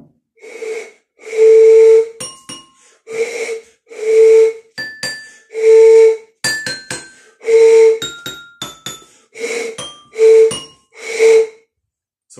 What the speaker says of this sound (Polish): To są cymbałki. No i każda metalowa płytka ma swój osobny dźwięk.